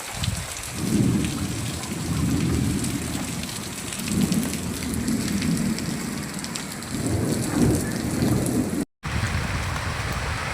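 Sudden heavy rain drives down over farmland with gusting wind and rolling thunder, a loud, continuous roar that swells in waves, with a brief dropout near the end.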